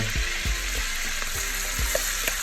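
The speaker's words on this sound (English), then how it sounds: "I'm adding my fresh garlic, onion, cilantro, and cherry tomatoes. All right. And we're just gonna saute these veggies real quick." Garlic, onion, cilantro and cherry tomatoes sauté in a hot pan, giving a steady loud sizzle with a few soft stirring bumps throughout.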